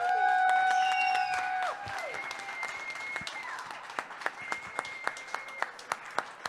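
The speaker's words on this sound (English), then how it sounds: "join me in giving a really warm and loud, ruckus round of applause" An audience at a food event applauds, a soft wash of clapping under sustained tonal sounds early on, thinning into scattered individual claps toward the end.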